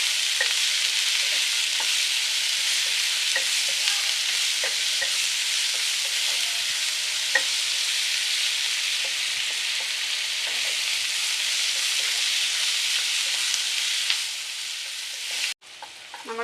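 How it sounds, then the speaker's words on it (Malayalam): Sliced onions sauté in a pan for a brinjal stir-fry, giving a constant close sizzle broken by light scraping stirs, with a sudden clatter near the end. "ഇട്ട് കൊടുക്കാം, ഇളക്കി കൊടുക്കാം. നമ്മുടെ സവാള ഒന്ന് വഴന്ന് വരുന്നവരെ."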